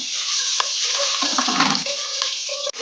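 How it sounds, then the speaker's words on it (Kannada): Green chillies and curry leaves fry in hot oil in a pan for khara pongal, giving a continuous loud hiss with a few soft clicks throughout. "ಅದನ್ನು ಹಾಕೊಂಡು ಫ್ರೈ ಮಾಡ್ಕೊಳ್ತೀನಿ"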